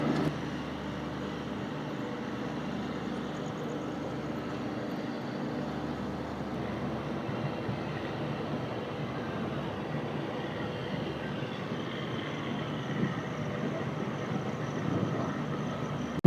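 Steady rumble of the Bhopal Express passenger train pulling out of Bhilwara station, a continuous rolling drone with faint clatter, heard from inside the carriage with no talking.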